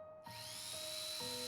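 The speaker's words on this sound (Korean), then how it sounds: "전기톱이 두개골을 파고 들어갔다" An electric saw cuts into a human skull during an autopsy as a horror drama sound effect. After a brief silence the blade starts abruptly with a buzzing, grinding whine that holds steady and close, with no speech.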